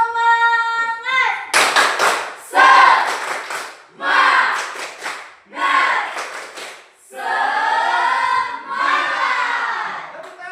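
Loud group spirit clap in a classroom-style gathering: repeated bursts of rhythmic hand clapping with energetic shouted chanting from many voices, ending in sustained vocal calls.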